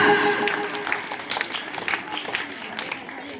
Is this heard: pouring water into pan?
no